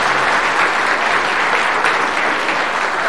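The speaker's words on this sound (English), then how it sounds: "Give these folks a round of applause" A conference audience at State of the Map US 2023 applauds the OpenStreetMap US board volunteers, with a continuous, even wash of many hands clapping that stays strong throughout.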